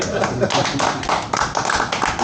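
A few people clap in uneven bursts at a bookbinding workshop, sharp close taps mixed with talking voices.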